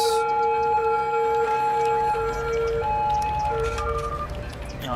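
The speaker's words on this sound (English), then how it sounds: "oh, there goes an ambulance" An ambulance siren in the city-building game Cities: Skylines: a loud, sustained electronic tone that shifts pitch partway through over a steady background hum.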